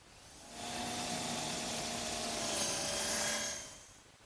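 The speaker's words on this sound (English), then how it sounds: "The first thing I want to do is drill a hole for this screw right here." A power drill boring a screw hole into a wooden table support piece, one steady whirring run of about three seconds that ramps up, holds and winds down, close and loud, with no talk.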